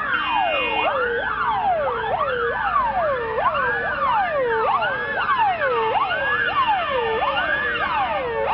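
Several fire brigade sirens wail together, overlapping rising and falling tones in a continuous loud chorus during an anniversary parade of a volunteer fire brigade in Liptovská Porúbka, Slovakia.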